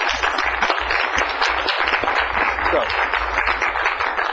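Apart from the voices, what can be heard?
applause at a board meeting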